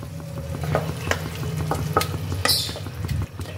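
Grated carrot mixed with milk for carrot halwa is stirred in a pan, with repeated soft scrapes and taps of the spoon over a gentle bubbling sizzle, and one brief sharper hiss near the end.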